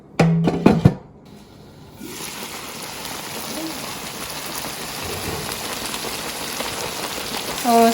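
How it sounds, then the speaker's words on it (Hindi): Matar paneer curry simmers in a covered pot, giving a steady, even bubbling hiss that runs from about two seconds to the end, after a brief voice at the start. "अब मैं इसे ढक के सिमर होने दूंगी थोड़ी देर, 3-4 मिनट"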